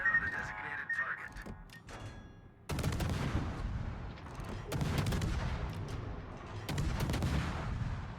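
Heavy naval gunfire from a warship in the World of Warships video game booms in three broad salvos about two seconds apart, each a loud blast with rolling rumble, after a quieter stretch carrying a faint sustained tone.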